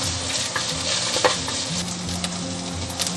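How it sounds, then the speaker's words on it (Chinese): Scallion, ginger and dried shrimp stir-fried in melted lard in a hot wok give a steady, close sizzle with repeated scraping stir strokes, and no voices. "我们下入葱姜，然后洗好的虾皮，给它炒香"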